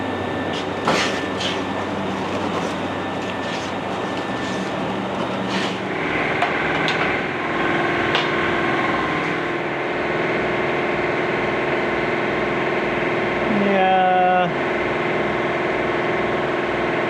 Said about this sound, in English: We got the Linear waste oil heater going again